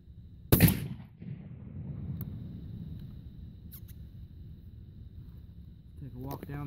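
A Remington SP-10 Magnum shotgun fitted with a Hastings choke tube fires once downrange during outdoor patterning, a single loud, sharp blast followed by a long, low rolling echo that fades slowly.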